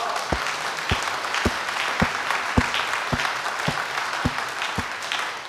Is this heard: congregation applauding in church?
yes